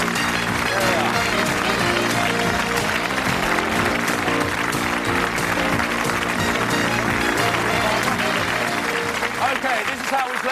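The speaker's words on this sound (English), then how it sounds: "Give them all a great round of applause" A studio audience at a television game show breaks into a long, loud round of applause, steady dense clapping with music or crowd noise underneath throughout.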